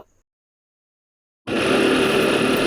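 A rented motorbike ridden along Marine Drive in Cox's Bazar beside the sea, its engine bursting in loudly after a second and a half of silence and holding a steady drone mixed with wind rush.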